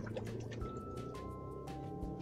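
Street water trickles and drips into the tank of a homemade solar heater, a continuous soft liquid burbling with faint tonal whines, heard close and alone.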